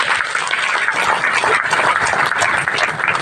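Crowd applause welcoming a guest onto the stage at a Gondwana Gondiyan community gathering in Assam, steady close clapping from many hands filling the whole stretch without pause.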